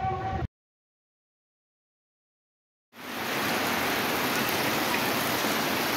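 Rain pours down steadily as a dense, continuous hiss that starts abruptly after a brief burst of sound and a silent gap, then holds loud and even to the end.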